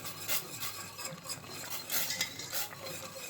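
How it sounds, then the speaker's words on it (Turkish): Spoon stirring a broccoli soup in a pot with water added, soft repeated scraping and swishing strokes against the pot, close and quiet with no voices. "karıştırmaya devam edeceğiz"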